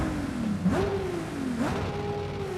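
A 2JZ engine built to 3,600 horsepower in a lightweight 1,300 kg car in a racing video game revs up and down in repeated sweeping surges, loud and steady, with no talk over it.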